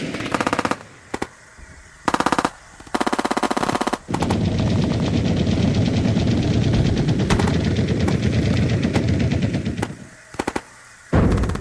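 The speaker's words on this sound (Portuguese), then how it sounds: "Os fuzileiros recuaram para o topo das montanhas e atingiram os japoneses com metralhadoras, granadas, morteiros e artilharia pesada." A battle scene with machine-gun fire: rapid, loud automatic bursts start and stop, then give way to a long, dense stretch of continuous firing and roaring combat noise before more short bursts end it.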